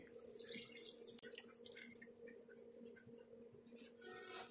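Water pours into a pot of chicken stew, a soft steady trickle and splashing over a constant low hum of kitchen background, fairly faint and without any talking.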